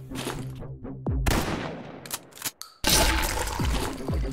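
Several heavy shotgun blasts in Happyhills Homicide 2, each a sharp crack with a fading boom, come between brief silent gaps, with a metallic clatter in the middle.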